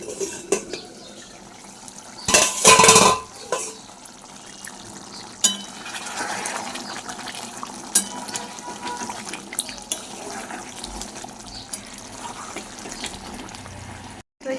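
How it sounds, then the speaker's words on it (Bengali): Hot water is poured into a pot of cooking meat in a home kitchen, a short loud splashing gush followed by quieter clinks and stirring noises of pots and utensils, with no speech. "তো এখন গরম জলটা দিয়ে দেবো"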